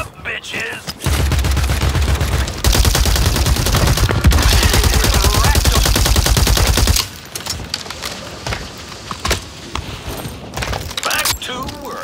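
Heavy gunfire in the video game Warzone 3, a dense, loud fusillade of rapid automatic shots sustained for several seconds, then thinning into scattered bursts and booms, with a voice shouting briefly in between.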